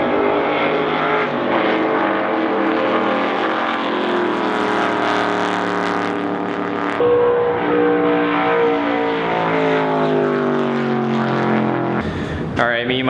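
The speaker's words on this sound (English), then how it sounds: "The cars are racing. It is noisy everywhere you go." Race cars roar past at the Daytona 500, a continuous loud engine drone with rising and falling pitch, heard close amid crowd noise with people talking over it.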